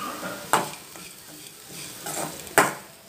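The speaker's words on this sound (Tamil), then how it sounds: "ஒரு நிமிஷம் வதக்கிக்கலாம்." Grated coconut being sautéed in a pan for a beans poriyal, with soft sizzling under two sharp spatula stirs and scrapes against the pan, no talking.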